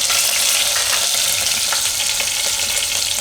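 Curry leaves go into hot oil in a pan for lila chana bateta rice, setting off a loud, continuous, close hiss and sizzle with faint crackles and no talk.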